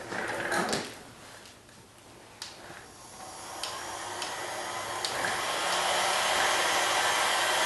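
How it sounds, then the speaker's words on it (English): Heat gun on its high setting blowing hot air into a Halloween fog machine: a steady rushing airflow that builds toward the end, with a few clicks and knocks near the start. "Okay, heat gun."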